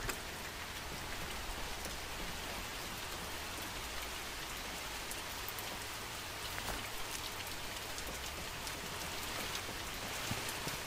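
Steady, dense rain hissing throughout in The Mortuary Assistant horror game, an even wash of fine patter with small ticks, moderately loud and continuous with no voices.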